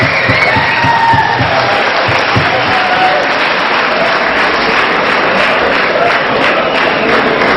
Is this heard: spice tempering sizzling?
no